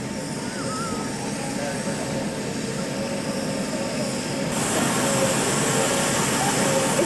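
A British Caledonian airliner sits at an airport as passengers board, its engine roar a loud, continuous drone that swells a little louder partway through, with no talk on top.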